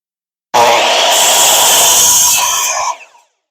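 A saw trims the tip of a wooden chair seat part in one loud, close, continuous rasping cut lasting a couple of seconds, then stops abruptly with a brief tail.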